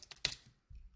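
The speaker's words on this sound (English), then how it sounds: "start typing some words." Quick keystrokes on a computer keyboard, a short cluster of sharp clicks followed by a quieter low rumble, close and alone.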